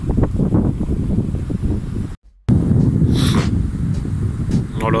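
A north wind buffets the microphone at a fishing spot, making loud rumbling gusts that drop out briefly, then resume with a faint chirp-like sound mixed in.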